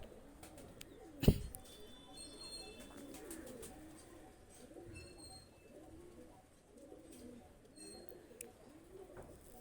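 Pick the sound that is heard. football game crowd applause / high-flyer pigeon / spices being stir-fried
high-flyer pigeon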